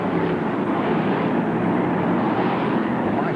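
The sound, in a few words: BriSCA Formula 1 stock car engines roaring past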